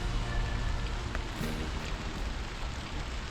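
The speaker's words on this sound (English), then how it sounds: "Why does it rain every time I make a video?" Steady rain falls outdoors, a dense broadband hiss of drops hitting surfaces, heard close and continuous throughout with no voices, during work on a 1971 Datsun 510 carburetor install.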